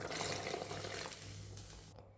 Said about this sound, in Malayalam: ഞാൻ ഇതിലേക്ക് കുറച്ച് വെള്ളം ചേർക്കുന്നുണ്ട്.